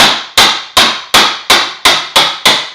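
A hammer drives a wood chisel into a door jamb with eight sharp, evenly spaced taps, each a loud, close crack that dies away quickly.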